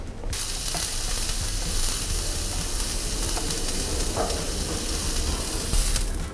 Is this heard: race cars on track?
no